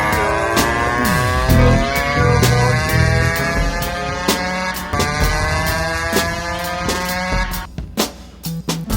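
A two-stroke engine fitted to a Burro Max, running close and loud with a buzzing, rising and falling whine and revving throughout, ending in several sputtering pops as it cuts off.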